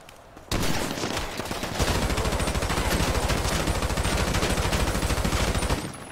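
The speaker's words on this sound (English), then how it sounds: "That was a good headshot." Rapid automatic gunfire in the video game GTA 5, a dense, loud, sustained burst of shots after a brief quiet start.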